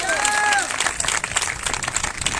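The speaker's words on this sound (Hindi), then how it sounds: "इसलिए जोरदार ताली प्रभु दे लिए बजाइए।" A church congregation at a Punjabi sermon claps loudly and steadily. Voices and a few brief whistle-like tones rise early on within the continuous applause.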